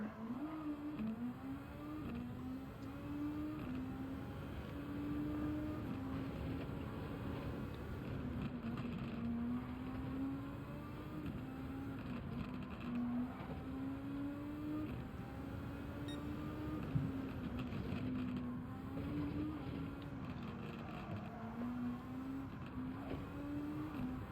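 Super Formula race car engines in Gran Turismo 7 whine continuously, the pitch climbing and dropping as the car accelerates and shifts through corners, steady and uninterrupted with no talk.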